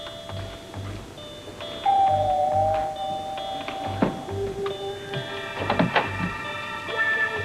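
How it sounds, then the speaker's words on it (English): A doorbell chimes in a quiet house interior, a few clear ringing tones over a low hum with faint clicks and soft movement. "he rang the doorbell"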